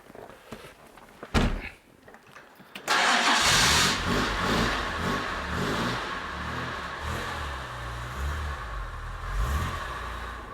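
A 1967 Aston Martin DB6 engine cranks briefly, catches at about three seconds and settles into a loud, steady, rumbling idle with slight revs. Before it starts there is a short clunk that may be a door.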